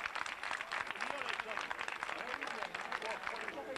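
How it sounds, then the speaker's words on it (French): Audience clapping for a rider at a 1990 Circuit des Vignes cycling race, a dense steady applause heard continuously under announcer talk. "vous pouvez encore l'applaudir bien fort, cette élégante hollandaise."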